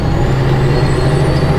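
Loud, close drone of an ex-army fire truck, half full of water, pulling hard in third gear with the throttle flat; a steady low engine roar with a slowly rising whine and no talk.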